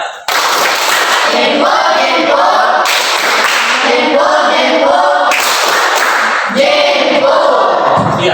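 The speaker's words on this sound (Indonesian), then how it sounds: "Tepuk jempol dimulai." A class of students doing a rhythmic thumb-clapping chant together indoors, loud and close, in repeated bursts of dense group clapping with voices chanting along.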